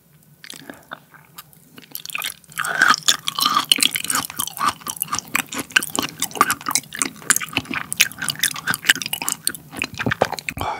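Close-up chewing of raw beef liver at a Korean gobchang and daechang meal, a steady run of soft wet bites and crunchy, squishy mastication, loud and near with no talk.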